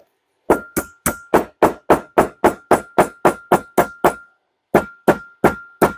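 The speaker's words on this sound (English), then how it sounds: "Grab your mallet, your hammer, your roller, whatever you got." A mallet pounding leather sheath pieces together: about sixteen sharp, evenly spaced knocks in a fast steady rhythm, a brief pause, then four more, close and loud with no talk.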